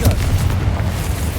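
A Confringo spell explosion in Hogwarts Legacy, a loud, heavy, low boom that rumbles on for over a second.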